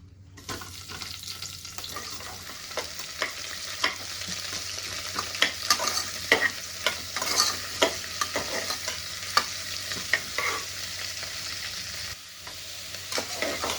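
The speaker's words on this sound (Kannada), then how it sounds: "ನೆಕ್ಸ್ಟ್ ನಮ್ಮ ಈರುಳ್ಳಿ ಫ್ರೈ ಮಾಡ್ತಾರೆ" Onions frying in a pan for prawn biryani, a constant sizzle broken by repeated spatula stirs and scrapes against the pan, close and moderately loud.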